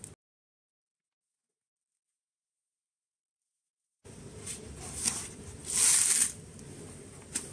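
Paper being torn off during a DIY phonograph wedding sign craft, a brief crisp ripping sound preceded by silence.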